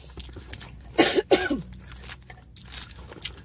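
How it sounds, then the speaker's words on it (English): Two or three quick, harsh coughs in a short burst, fairly close, followed by quiet room noise. "Stop coughing over here."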